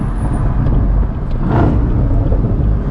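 A stock 2019 Camaro ZL1 1LE engine drones loud and steady from inside the cabin while driving, with a low continuous rumble and road noise throughout.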